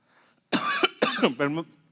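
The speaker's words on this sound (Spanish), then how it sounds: "Déjeme tosar bien porque me contengo en toser" Three harsh, close coughs in quick succession, each a short broadband burst with a rough, throaty edge, alone with no talk around them.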